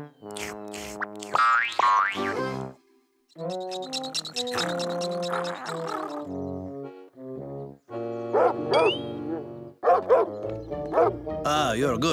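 A voice playfully imitates a dog, with a string of bouncy woofs, yips and whimpering tones in quick uneven bursts, loud and close.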